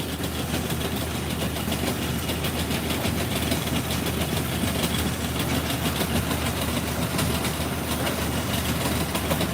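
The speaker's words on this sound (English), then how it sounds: "That's the main drill stem coming out right there." Water well drilling rig in Texas pulling its main drill stem, 20-foot lengths, out of the hole: a steady, loud, continuous low engine drone with dense mechanical clatter throughout, no talk.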